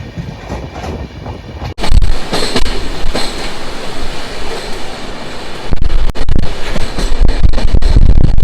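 A passenger train pulls out of Malda station bound for NJP, heard from inside the carriage: a steady, loud rumble and clatter that jumps sharply in level after a brief lull and keeps rolling with rhythmic wheel knocks.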